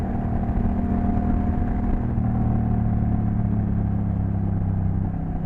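Honda Rebel 1100 motorcycle cruising on backroads, a steady mid-pitched engine drone with a continuous low rumble, close and constant throughout with no talk.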